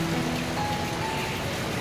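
Rain falls steadily in the countryside of Surin, Thailand, a dense even hiss with no breaks and no voices.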